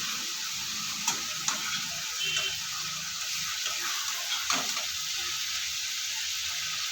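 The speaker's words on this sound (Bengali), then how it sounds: "ভালোভাবে মাছটা কষিয়ে নেব।" Rohu fish cooking down in a pan with spices, a steady fizzing sizzle with a few sharp ticks and clinks of stirring, moderately loud and close with no voices.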